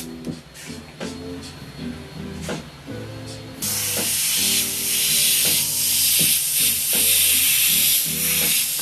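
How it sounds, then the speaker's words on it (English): An airbrush spraying paint onto T-shirts, a steady loud hiss that kicks in partway through and holds continuously, preceded by quieter background music and brief clicks. "Just line it up with the tip of the airbrush again, and now I'm fine."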